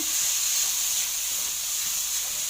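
Onion sautéing over high heat in a pan with meat, giving a loud, steady, close sizzle and hiss that stays constant throughout without a break.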